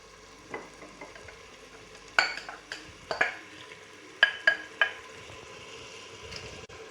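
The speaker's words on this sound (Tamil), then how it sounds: "இப்போ நல்லா கிளறி விட்டுருங்க. நல்லா கிளறிக்கோங்க." Roasted brinjal sabzi frying in a pan is stirred with a utensil, giving several sharp scraping clinks against the pan over a soft sizzle, with no talk.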